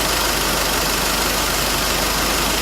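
A Nissan Navara engine idles steadily during an intake cleaning treatment, a constant, even hum and whir that holds without change and with no voices.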